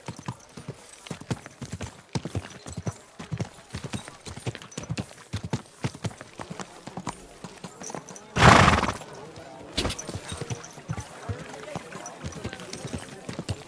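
A horse's hooves clip-clop in a steady rhythm throughout, broken by one loud, close whinny partway through, with a further snort shortly after.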